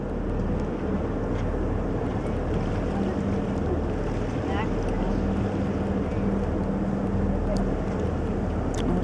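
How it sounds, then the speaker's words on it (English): A tour boat turns around near Herbert Glacier in Alaska, giving a steady, loud, unbroken rumble of engine and wind noise that fills the whole stretch without pause. "I'm going to spin the boat here"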